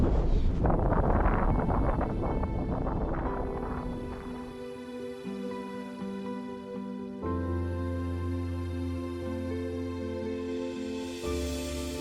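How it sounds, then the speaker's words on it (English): Wind buffets a microphone on an exposed mountain summit, loud gusty roaring at first that eases into a steadier blow with tonal hum layered over it. "I'd be happy if this wind dropped, because putting the tent up in the wind is like, becomes a parachute"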